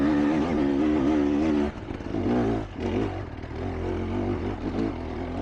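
A motorcycle held in third gear climbs a hill, its engine a loud, steady drone that dips in level partway through and then pulls on with shifting pitch.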